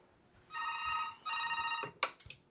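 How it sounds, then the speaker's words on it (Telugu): A phone rings indoors, two clear electronic trill bursts in quick succession, moderately loud, followed by a couple of short knocks or clicks. "అప్పుడే ఫోన్ కూడా వస్తుంది."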